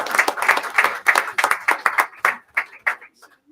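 Scattered clapping from a small audience at a school board meeting, a burst of separate hand claps that thins out and fades to a few last claps.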